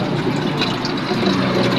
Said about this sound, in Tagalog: Maglalagay mo tayo ng tubig na init.